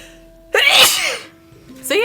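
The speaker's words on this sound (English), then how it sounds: "I also sneezed" A single loud, sharp human sneeze bursts out close up, with a second sneeze starting just as it ends, over a faint steady hum.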